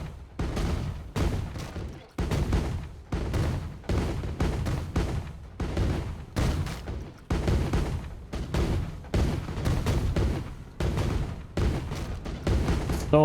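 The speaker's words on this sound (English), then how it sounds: "So many cannons." Cannons in a fireworks show in the video game Planet Coaster 2 fire repeatedly, a long run of dense, booming bursts at an irregular rapid rhythm, loud and continuous with brief gaps.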